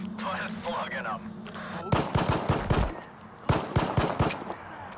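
Gunfire in the video game STALKER 2: Heart of Chornobyl, with rapid bursts of loud shots in two clusters after a quieter opening with a voice, each burst a string of sharp cracks.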